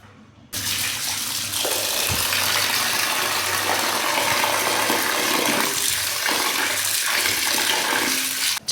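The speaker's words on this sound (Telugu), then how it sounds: "సో ఇప్పుడు మనం వాటర్తో కడుగుతాం" Tap water runs steadily and loudly for several seconds while fish is rinsed clean after being rubbed with lemon for a Telugu-style fish curry, splashing continuously with no talk.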